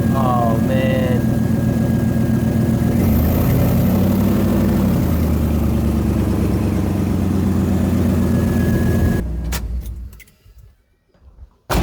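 A 1997 Jeep Grand Cherokee ZJ engine, freshly rebuilt with a new head gasket, idles loudly with an exhaust leak, a steady rough rumble over keys jangling and voices, before cutting out into near silence.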